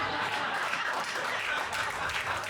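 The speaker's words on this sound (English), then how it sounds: "everyone's clapping but this fucking table?" Applause from a comedy club audience during a stand-up set, a steady dense wash of clapping that fills the whole stretch at moderate volume with no voice on top.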